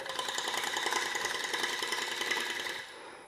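A wooden bowl spinning on a lathe while a gouge takes very light cuts, giving a steady, dense scraping hiss that carries on evenly, then trails off at the end.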